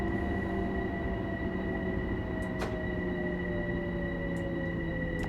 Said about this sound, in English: More of the braking.